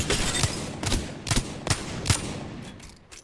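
Six sniper rifle shots ring out in Apex Legends, evenly spaced about every half second to second, each a sharp loud crack with a brief tail over low game ambience.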